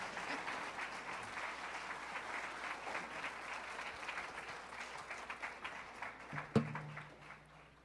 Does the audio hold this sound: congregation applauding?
yes